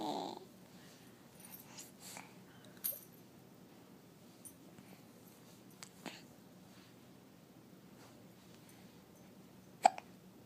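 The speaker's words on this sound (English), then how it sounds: "Oh, a hiccup happens?" Several short, sharp hiccups spaced seconds apart during a storytelling session in a quiet room, each a faint, abrupt catch of breath with near silence between.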